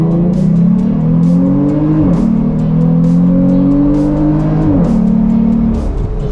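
A tuned Stage 2 Jeep Gladiator pickup truck engine revs loudly and continuously with rising and falling pitch, dipping briefly twice between pulls, sounding close and aggressive.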